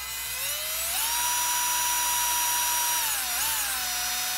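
A small high-pitched drill boring into plastic button caps for a handheld game console, whining steadily close up, its pitch rising as it spins up and dipping briefly near the end.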